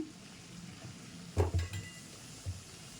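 Spices and ginger garlic paste being mixed in a pan for chicken fry: a low background sizzle broken by a few distinct scraping and clinking stirs of a utensil against the pan, close and moderately loud.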